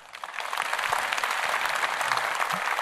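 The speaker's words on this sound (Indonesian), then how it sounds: "Tepuk tangan." Applause rises from an audience at a Kadin Indonesia gathering attended by Prabowo and delegates from 34 provinces, building quickly after a soft start, then holding steady and moderately loud.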